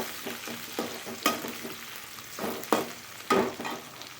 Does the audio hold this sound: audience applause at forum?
no